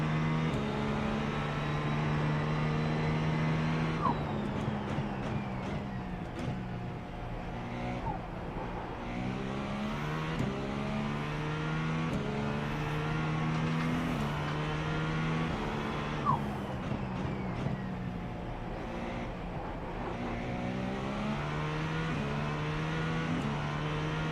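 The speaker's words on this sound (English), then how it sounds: "Lots of wastegate noises. Sounds great." A GTP race car engine heard from onboard, revving up and down through gear changes with a steady loud drone, punctuated by sharp wastegate chatters and whooshes as the throttle lifts.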